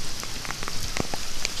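Heavy rain pouring onto a street, a dense steady patter with scattered louder drops splashing close by.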